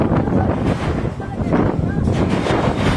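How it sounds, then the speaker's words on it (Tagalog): Strong gusts of tornado wind in Masbate buffet the microphone in loud, uneven rushes, roaring continuously with brief lulls. "Hangin."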